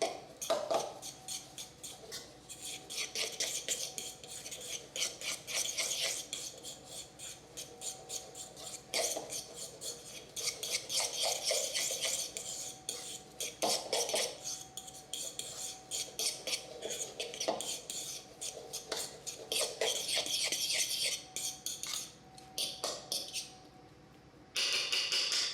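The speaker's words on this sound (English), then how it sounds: "With a fork, blend all the ingredients thoroughly together." A fork stirs and blends ingredients in a bowl, giving a quiet, continuous run of fast clicking and scraping strokes against the bowl, with brief pauses, close up and otherwise alone.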